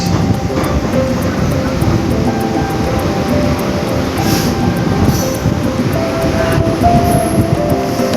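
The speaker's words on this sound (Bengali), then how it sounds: "ট্রেনটা আমাকে ছেড়ে দিয়ে চলে গেল" A train pulling out of Simlagarh railway station around midnight, a steady loud rumble of wheels and carriages running throughout without a break, with faint clanks and a brief horn-like tone toward the end.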